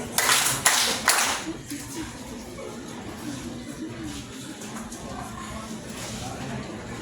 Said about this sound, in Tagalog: bigyan ng tatlong palakpak si Tantan